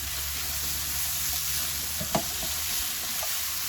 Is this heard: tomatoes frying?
yes